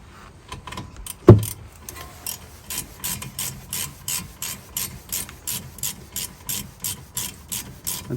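Ratchet wrench tightening brake caliper bolts on an Audi A1 1.4 TFSI, a close, rhythmic series of clicking strokes after one sharp knock near the start, with no talking.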